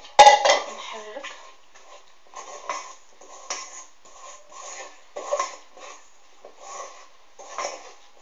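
A utensil stirs in a metal pot while seafood pizza ingredients cook, giving repeated clinks and scrapes with a louder clatter at the start and intermittent knocks afterward.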